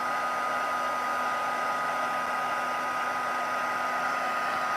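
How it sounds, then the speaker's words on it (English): A heat embossing tool blows hot air over a stamped image in a steady, even whoosh with a faint tonal hum, running unbroken at moderate level with no talking. "Once the heat tool warms up"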